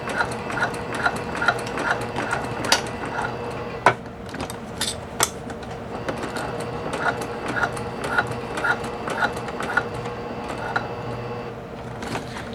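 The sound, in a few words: sewing machine stitching backwards to tack a tote bag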